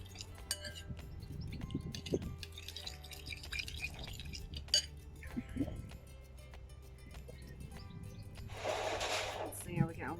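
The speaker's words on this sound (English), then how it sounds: "So let's add a bit of water first." Water is poured into a measuring jug while mixing a garden spray against aphids. Faint drips and small clinks come first, then a brief rushing pour near the end, all quiet and close amid soft background sounds.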